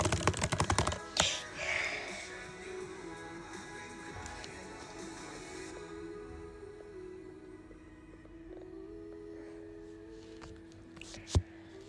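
Typing on a computer keyboard, dense clicks at the start that thin into a steadier, quieter patter of keystrokes, with one sharp louder tap near the end.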